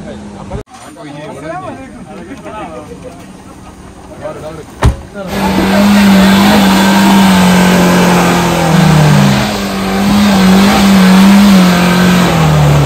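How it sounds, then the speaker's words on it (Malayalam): An off-road vehicle's engine revs loudly and steadily on an off-road track, rising and holding over crowd babble and nearby voices. "നദീമ ഈ വണ്ടി താഴെ വെക്കട, അതിന്റെ ടയർ പൊന്തി കിടക്കുന്നത്."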